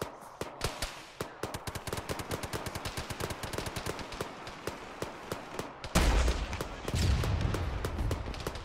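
Rapid, repeated gunfire crackles in a military video game, sharp reports in quick bursts running throughout, loud and close, with a heavier blast entering near the end.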